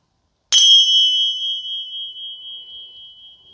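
A meditation bell is struck once, giving a bright, clear ring that sustains and slowly fades over several seconds in otherwise silent surroundings.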